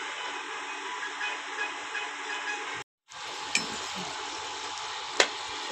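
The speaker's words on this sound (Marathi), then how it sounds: "असे ब्राऊन होईपर्यंत व्यवस्थित तळायचे" Shankarpali dough pieces deep-fry in hot oil for Diwali snacks with a steady bubbling hiss, broken by a brief pause and a couple of sharp utensil clinks.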